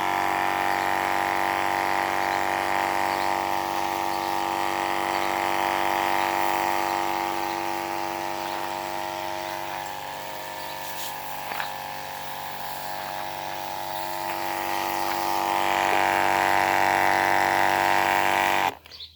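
A homemade cordless sprayer's pump runs on a 20V DeWalt battery with a steady, continuous electric hum and buzz. It is close and loud, dips slightly midway, and stops abruptly at the end.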